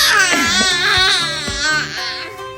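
A baby cries and wails loudly and up close at the Annapolis boat show, a rising, wavering cry with crowd noise faintly underneath.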